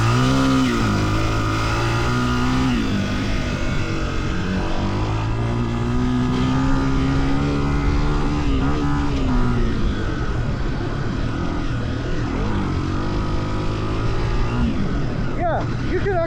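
Honda CRF300F dirt bike engine while riding, a loud, continuous engine drone that rises and falls in pitch through gear changes, with a voice speaking over it.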